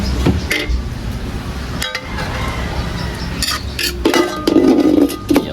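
Lid set onto a cooking pan of gisadong patola with shrimp, a series of metallic clinks and clanks as it is handled and seated, close and clear against a low kitchen background.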